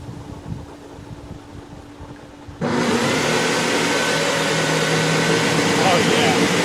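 An old, weathered shop vac switches on after a quiet pause and then runs with a loud, steady, broadband roaring whine that continues to the end.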